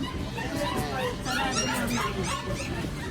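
A two-month-old Bull Mastiff puppy at a pet market in Recto, Manila gives high whimpers and little yips, repeated irregularly over a steady din of market chatter and voices.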